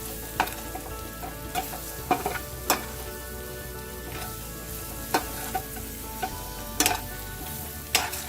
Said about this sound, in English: And of course our breadcrumbs on low heat. Give it a good toss.